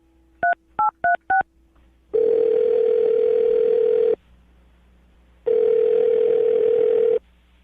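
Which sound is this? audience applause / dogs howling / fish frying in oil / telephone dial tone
telephone dial tone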